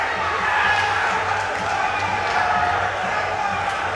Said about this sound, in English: the whole crowd now going crazy